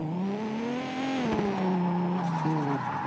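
Car engine in the mobile racing game Tuning Club Online, a steady synthetic tone that rises and dips in pitch as it revs, with a brief jump near the end and no talking.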